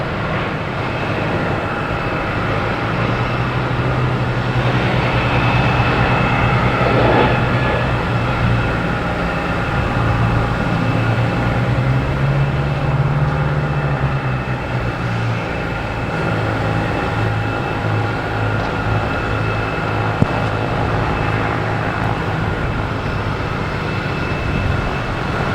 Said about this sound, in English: Delta heading to Salt Lake City.